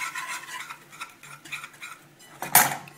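A spoon stirs béchamel sauce in a pan, scraping and clinking softly in a steady rhythm, ending in one sharper knock against the metal.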